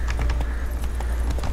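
Horse hooves clip-clop in a steady riding rhythm in The Witcher 3: Wild Hunt, several close, light hoofbeats over a low background hum.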